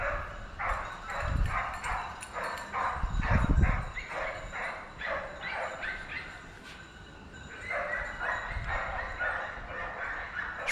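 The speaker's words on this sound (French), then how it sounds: "les chiens se font entendre" Hunting dogs bark repeatedly in bursts from a middle distance during a driven wild boar hunt, a pack giving voice with overlapping yelps and steady rhythmic calls.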